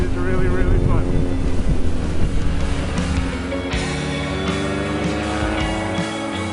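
A BMW R nineT Urban GS motorcycle rides along country roads. Its engine drones loud and steady, the pitch climbing and dropping through gear changes with no break.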